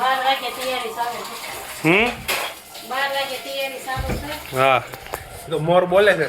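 A mother washes dishes and pots at home, with intermittent clinks of metal vessels and cutlery set against nearby speech that runs through most of the moment.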